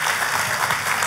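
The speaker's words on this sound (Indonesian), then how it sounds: "Tepuk tangannya yang paling meriah buat Tuhan kita." A church congregation claps loudly during a worship sermon, producing a dense, continuous wash of many hands clapping at once, steady in volume throughout.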